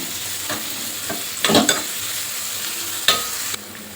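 Sliced onions with half a spoon of sugar frying in a pan for egg biryani, a steady soft sizzle with a few stirring scrapes and clatters, fairly close and without any talking.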